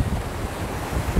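Waves break on a rocky shore at Batroun, Lebanon, on a windy day, a close, loud rush of surf mixed with buffeting wind noise over one short burst.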